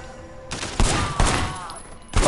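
Gunfire in the video game Sleeping Dogs, a few loud, close booming shots with short gaps between them over a steady game background.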